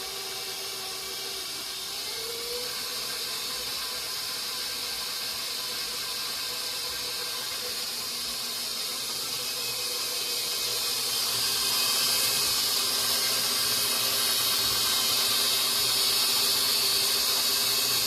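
An electric mixer whips butter for a lemon-lime soda pound cake, giving a steady, continuous whirring hiss that runs the whole time and grows somewhat louder toward the end, with no talking.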